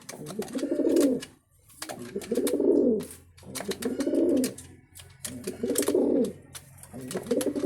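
Pigeons cooing close by during pairing, a repeated series of deep, throaty rolling coos in roughly one-second bursts with short pauses, loud and steady with no voices.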